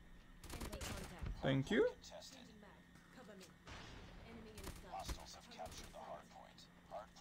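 The Swordfish burst rifle fires in Call of Duty Mobile as a cluster of sharp shots early on, then scattered bursts. Game gunfire and footsteps continue throughout, and a voice speaks briefly over it.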